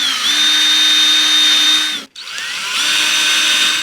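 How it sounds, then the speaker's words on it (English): An electric drill whines at steady speed drilling out screw holes on an old radiogram, stops briefly, then spins up again for a second burst, close and loud. "I need to drill the holes out a bit"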